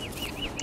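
Turkeys being killed in the video game Don't Starve Together give a quick burst of short, chirpy gobbling calls over a steady hiss, all within a fraction of a second.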